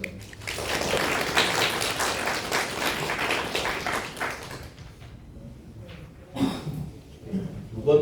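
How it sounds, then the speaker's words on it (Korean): At a Korean academic conference session, an audience applauds after a presentation ends, with scattered clapping lasting several seconds and then fading. Some talk can be heard around it. "박수 부탁드리겠습니다."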